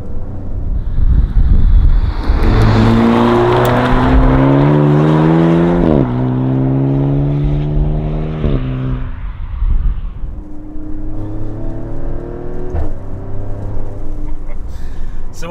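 Maserati Grecale Trofeo SUV accelerating hard on the road, its engine climbing through gears with rising harmonic tones and clear shift breaks, loud and close with wind rush throughout.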